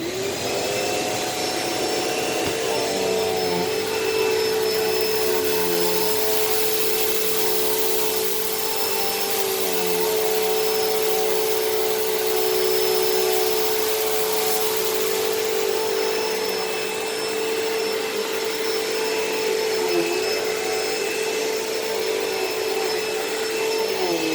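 A vacuum cleaner on its medium setting, a model with no height adjustment, runs over carpet in a pickup test, giving a steady, loud motor whine with a high tonal hum that continues unbroken throughout.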